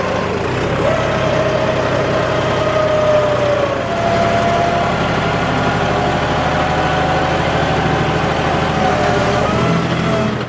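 The engine of a John Deere 5210 4WD tractor idles close by, a loud, steady low rumble with a faint whine that dips slightly partway through.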